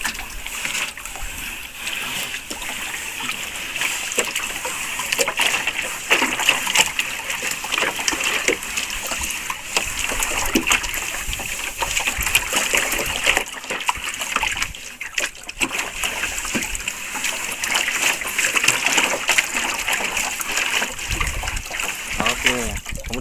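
Water and tapioca flour being stirred by hand for a fermentation mix, a steady sloshing and splashing that runs throughout at moderate level, with people talking at times.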